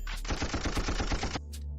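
A rapid burst of gunfire, dense repeated shots like an automatic weapon firing continuously, loud and close, then cutting off abruptly.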